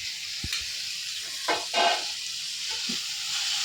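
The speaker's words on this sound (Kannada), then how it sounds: "ಟೊಮೆಟೊ ಹಾಕ್ಕೊಂಡು ಮತ್ತೆ ಫ್ರೈ ಮಾಡ್ಕೊಳ್ಳೋಣ" Chicken liver and tomato sizzle in a frying pan, a bright steady hiss broken by a few short louder bursts as the pieces are stirred, heard close up and with no talking.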